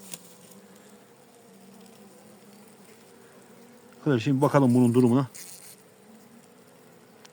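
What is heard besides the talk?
honey bees buzzing inside a package bag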